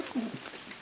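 A racing pigeon coos once, a soft low throaty note close by, brief and fairly quiet against faint background noise.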